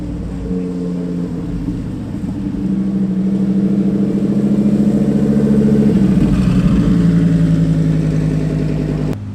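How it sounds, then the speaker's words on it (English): A loud car engine at a hypercar show drones steadily with a deep, throaty exhaust from an expensive aftermarket system, swelling as it revs higher midway, then settling, close by. "This is insanely loud for a car."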